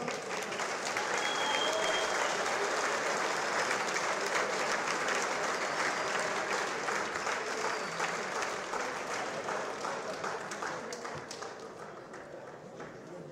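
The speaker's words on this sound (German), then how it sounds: "So, noch mal einen großen Applaus an beide Boxer" A crowd at a boxing event applauds both fighters after a bout, with sustained dense clapping that stays loud before gradually tapering off, while a voice carries faintly through the noise.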